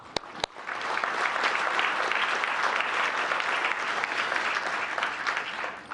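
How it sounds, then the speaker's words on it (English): Audience applause at a Gilbert open house event, a steady dense wash of clapping from a sizable crowd lasting throughout, with a couple of sharp nearby claps at the start. "I would just ask you to just thank them with an applause of all their work and effort"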